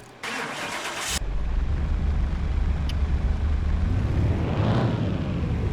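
A car engine runs steadily on a dynamometer, a loud continuous drone with a brief higher burst near the start and a slight rise in pitch toward the end, as though under load.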